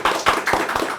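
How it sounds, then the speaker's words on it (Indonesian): Hands clap in a quick, close rhythm of about five beats, loud and alone in a short burst. "Tepuk tangan."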